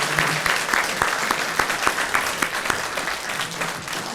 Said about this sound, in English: how about a round of applause for Aramark for once again doing a great job.